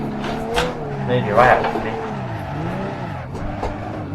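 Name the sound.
car drifting with tire squeal in video game Assetto Corsa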